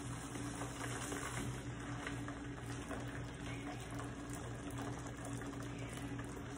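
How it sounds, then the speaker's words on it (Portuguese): Boiling water pours steadily from a kettle, one litre in all, while making coconut soap; a quiet, continuous liquid rush runs throughout with no talking. "vamos colocar 1 litro de água fervendo"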